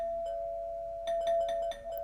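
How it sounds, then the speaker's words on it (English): A front door chime rings in the video game 428: Shibuya Scramble, a melodic electronic doorbell playing a rapid series of bright tones over a steady background hum, with one faint tone just before. "Ding dong, ding dong, ding dong. The front door chime sounded."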